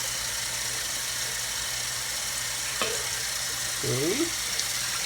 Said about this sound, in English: So we're gonna cool off our noodles again and rinse off the extra flour from the noodles.